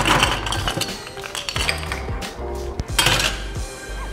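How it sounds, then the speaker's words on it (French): Ice cubes clinking against a glass as a mixing spoon stirs a White Russian cocktail, producing a steady stream of bright, close jangles and rattles with no voices. "on va rajouter les glaçons dans le verre et on va venir un petit peu stirrer tout ça pour que ça se mélange bien"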